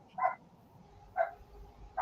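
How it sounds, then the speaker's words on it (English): Dogs, a poodle among them, bark indoors in three short, sharp yaps spaced about a second apart, moderately close, with a low room hum between them and no talking. "they'll just go nuts until I shout at them, and that poodle won't stop anyways"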